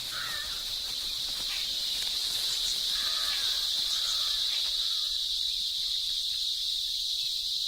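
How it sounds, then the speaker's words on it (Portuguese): A cicada's loud courtship song forms a steady, piercing high-pitched drone that runs unbroken through the whole stretch, with a few faint bird calls scattered underneath. "A canção de amor da cigarra é o som mais alto no mundo dos insetos."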